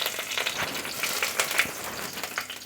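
A torn bay leaf and whole garam masala spices fry in mustard oil for a Bengali chicken curry, a soft, steady sizzle with small crackles. Close by, with no voices.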